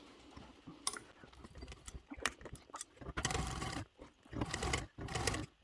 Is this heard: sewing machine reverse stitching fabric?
yes